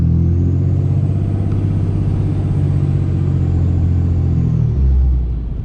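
Tuned diesel truck cruising at light throttle, a steady low engine rumble from inside the cab with road noise, easing off slightly near the end.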